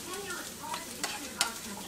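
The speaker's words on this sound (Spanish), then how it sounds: "Ahora le vamos a echar la berenjena y seguimos revolviendo." Eggplant and garlic being stirred in a hot frying pan, a close steady sizzle with soft scraping strokes and a couple of sharp clicks of the utensil.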